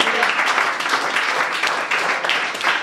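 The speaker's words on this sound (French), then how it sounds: "Acclamons très fort notre Seigneur." A church congregation applauds in dense, steady clapping that fills the room at moderate loudness, with a faint voice under it.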